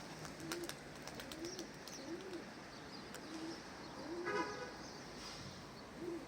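Dumanlı eke pigeons coo softly in a loft, several low, repeated coos spaced a second or so apart over faint background noise and a few rustles.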